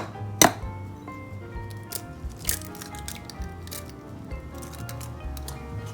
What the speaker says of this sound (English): we're gonna just start cracking the eggs